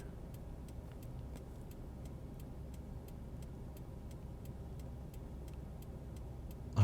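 A car drives around the rotary roundabout off Market Street in Norwich, Connecticut, giving a steady low engine and road rumble inside the cabin with a faint regular ticking, likely a turn signal, and a brief bump at the end.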